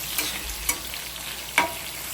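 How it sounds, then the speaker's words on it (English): Chicken browns in a pan for creamy alfredo, a steady soft sizzle broken by a few brief utensil taps and stirring sounds, close with no speech. "I'm just browning in it. Let it fry for a little bit."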